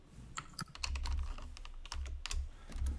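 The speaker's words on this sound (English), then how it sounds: "I'm going to just hit delete on the keyboard" Computer keyboard typing with a quick run of close, crisp key clicks and thumps while a key combination is pressed to clear a box, steady over a quiet background.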